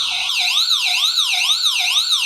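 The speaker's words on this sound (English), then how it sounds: "if you hold this for more than 2 seconds, it'll turn on the alarm" A loud electronic alarm siren from a eufy home security system wails up and down in a fast, repeating sweep, close and continuous.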